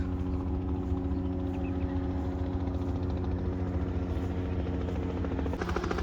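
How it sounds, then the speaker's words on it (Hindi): A helicopter's steady rotor thump and engine drone, loud and constant, holding a throbbing pulse throughout with no voices. "अब देखो हेलीकॉप्टर आ रहा है एक।"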